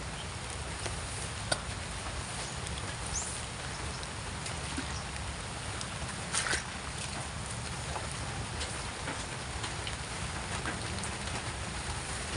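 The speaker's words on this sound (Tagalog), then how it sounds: "Lakas pa yung ulan." Heavy rain pours down steadily around a damaged, roofless house, a constant wash of dense drops with a few sharper spatters, no voices.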